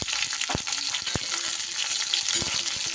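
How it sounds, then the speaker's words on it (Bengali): Onion and capsicum cubes fry in a pan with garlic, a steady close sizzle broken by the scrape and knock of stirring, no voices. "পেঁয়াজ আর ক্যাপসিকাম একটু নাড়াচাড়া করে নেব"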